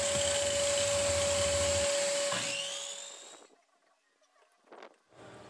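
A workshop vacuum collects sawdust, a loud steady whine with a high tone that winds down and cuts off partway through, leaving quiet room sound and a few faint knocks.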